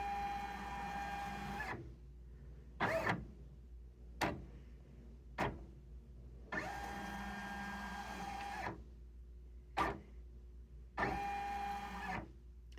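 An embroidery machine stitches titles onto a hooped 10-inch bookcase quilt block, whirring in steady mechanical runs broken by short pauses and sharp clicks, close by, over a low constant hum, with no voices.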